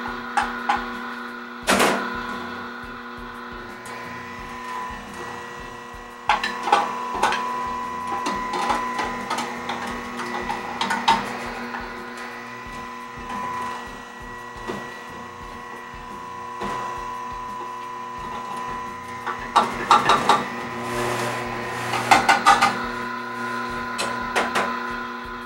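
An Omega NC800HDS juicer grinds almonds into almond butter, a steady mechanical whir and rumble running throughout with occasional sharper knocks and rattling bursts, loud and close.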